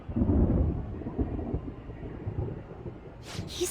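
Thunder rumbles through a rain scene in the video game Persona 5 Royal, a low rolling roar that swells early and fades into steady rain and wind noise, with no talk over it.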